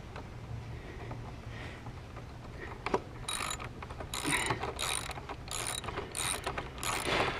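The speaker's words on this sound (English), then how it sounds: "put my socket wrench back on there. And now I can start tightening it up" A socket wrench ratchets in quick bursts while tightening the front axle of a Triumph Tiger motorcycle, with a series of close, clicking strokes that repeat with short pauses between them.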